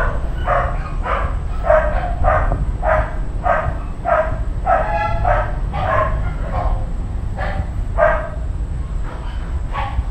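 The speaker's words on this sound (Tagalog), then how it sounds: "Ingay talaga ng aso." A dog barks repeatedly outside an abandoned house, giving a steady series of short, mid-distance barks roughly every half second over a constant low background hum.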